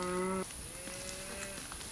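A cow moos in a pasture of fall food plots, one long low call followed by a second softer, drawn-out moo, fairly close with steady outdoor background.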